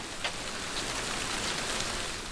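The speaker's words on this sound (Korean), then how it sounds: "억수로 쏟아지는 비가 야쿠시마를 야쿠시마답게 하지요." Heavy rain pours on Yakushima island in Japan, a dense, steady hiss of downpour filling the whole stretch with no other sounds.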